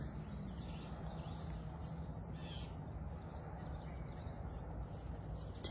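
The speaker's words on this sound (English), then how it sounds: "Do you hear all the birds?" Birds calling outdoors on a quiet, empty rural property. A few faint, crow-like calls stand out briefly over a steady, hissing outdoor background, with no voices.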